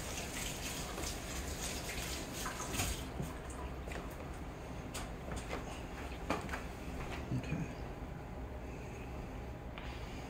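Jalapeños rinsed under a running kitchen tap, giving a continuous faint splash and gush of water with small spattering changes as the peppers move under the stream.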